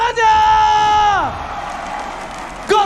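Arena crowd at an MPL Indonesia esports match between ONIC and Alter Ego: a loud, drawn-out shouted call from a voice gives way to a sustained wash of cheering and applause, ending with another sharp vocal whoop.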